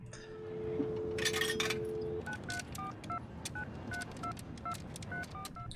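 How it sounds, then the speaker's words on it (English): A payphone in a TV drama is dialed, a quick sequence of short, evenly paced keypad tones after a brief hum, faint against quiet background noise. "You gonna use a payphone?"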